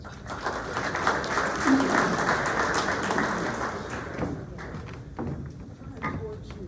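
Sustained applause from an audience at a candidates forum, steady and full at first, then thinning and tapering off toward the end, with a voice mixed in.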